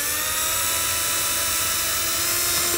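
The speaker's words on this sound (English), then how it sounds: "drill a hole in the center for your screw" A high, steady whine of a power drill boring pilot holes in a raised-bed end cap, running continuously, close and loud, with no pauses and no voices.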